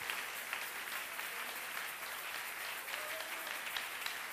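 Church congregation at a Sunday service claps together in steady, continuous applause, moderately distant and even throughout.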